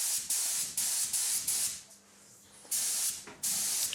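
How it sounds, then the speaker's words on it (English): An airbrush sprays purple paint along a car's body line, edged with strips of masking tape: about six sharp, close hissing bursts, with a short quiet gap midway and no talking. "Here you can see me spraying the body line."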